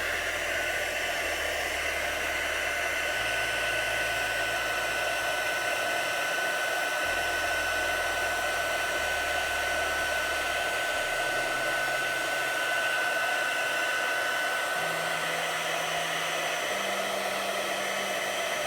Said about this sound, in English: The heat tool makes so much noise, but it sure does a nice job.